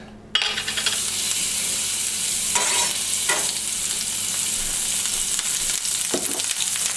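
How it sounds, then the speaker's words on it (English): Puffball mushroom frying in olive oil with garlic paste in a pan, a loud, steady sizzle throughout with a few brief stirring scrapes on top. "A little bit of olive oil. Put it in the pan."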